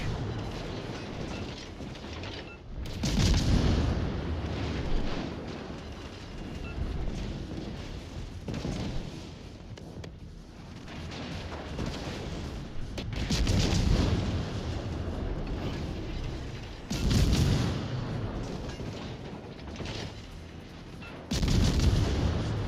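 Heavy naval guns boom in World of Warships: Legends from the German battleship Brandenburg under a smoke firing penalty; several loud, deep salvos roll out at intervals over a constant rumbling background.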